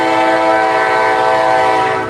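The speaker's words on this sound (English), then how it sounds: "I'm right in the goddamn middle of the fucking train" A train horn blares loud and sustained at a crossing as the train passes close by, a steady harmonic blast filling the whole moment before easing slightly at the end.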